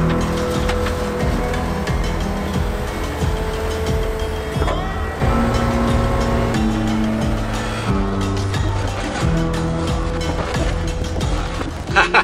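2020 Ford F-550 dump truck hauling about 4,000 pounds of dirt, driven on the road at roughly 18,000 pounds combined weight; loud continuous engine and road drone with shifting tones, heard close and steady without talk.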